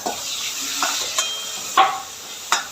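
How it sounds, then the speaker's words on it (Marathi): Onion frying in a pan while usal is cooked, a steady sizzle broken by four or five sharp scrapes and clinks from a stirring spoon, close and fairly loud, with no voices. "आता आपण टाकून घेऊया थोडा कांदा"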